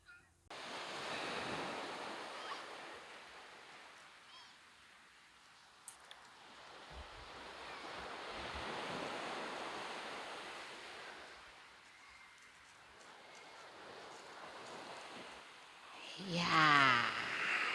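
Ocean surf rolls in at Kolbano beach in NTT at night, swelling and fading in long slow surges of broad hiss, with some wind and a brief louder burst near the end.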